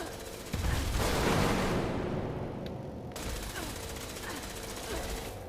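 Tesla Cannon firing in Fallout 76: a loud burst of heavy weapon fire with booming, crackling blasts lasting about two seconds, followed by fainter rattling shots and game effects, with some speech-like voices mixed in.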